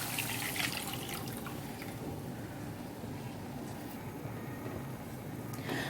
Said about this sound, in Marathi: आता आपण चिकन स्टॉक घालून घेणार आहोत।